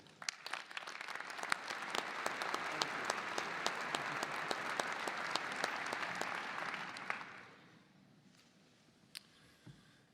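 A commencement audience at Purdue University gives sustained, steady applause to welcome a speaker. The clapping is dense and even for about seven seconds, then fades to scattered faint claps and room noise.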